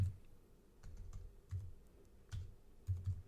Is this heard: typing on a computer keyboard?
yes